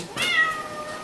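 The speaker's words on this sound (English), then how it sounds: "cats right outside the window" One cat meows outside a closed window, a single drawn-out cry of about half a second, moderately loud and alone in the quiet.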